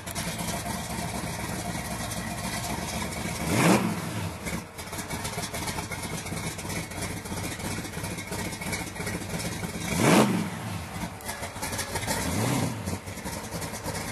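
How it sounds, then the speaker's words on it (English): A strong race car engine with nitrous, idling steadily up close, its low mechanical rumble rising in two short revving bursts and easing back, with no talk over it. "The motor's really strong in this car."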